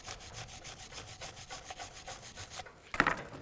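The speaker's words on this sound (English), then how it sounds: "You can use a wire brush." Rhythmic back-and-forth scrubbing of a wire brush over rusty brake parts on a 2008-2017 Buick Enclave, steady and fairly quiet, ending with a sharper scrape.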